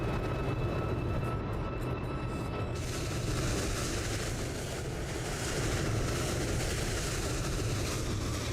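An airplane passing overhead in a flight simulator game, a steady, loud broadband engine drone with rumble that holds throughout and swells slightly near the end.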